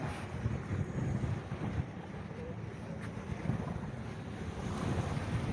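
Ocean waves rush and wash continuously, mixed with gusty wind buffeting the microphone, a steady outdoor roar without talking.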